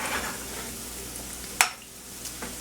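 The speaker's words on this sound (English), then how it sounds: "So now I'm going to go ahead and give these a flip." Potato latkes frying in a pan are flipped, a steady close sizzle with stirring scrapes and a sharp clatter of the utensil against the pan midway.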